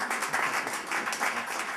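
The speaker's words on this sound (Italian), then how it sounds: "Un applauso a Luca." Studio audience on a TV music show applauds a performer, with steady dense clapping throughout the short stretch.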